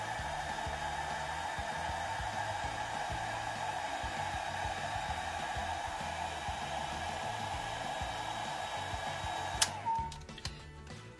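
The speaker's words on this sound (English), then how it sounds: "I'll take my dryer on the low setting and make sure it's dry." A hair dryer on its low setting runs as a steady, close airflow whir while drying alcohol ink for a flower and center design, then cuts off near the end.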